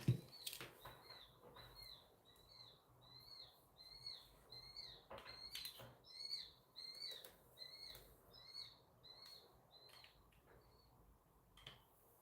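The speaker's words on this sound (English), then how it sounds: "Tell me you guys can hear that bird." A small bird cries in a rapid series of high, repeated chirps, faint and somewhat distant, with occasional clicks and knocks nearby.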